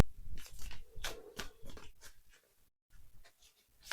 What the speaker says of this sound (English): Just gonna give them a little shuffle, pick one out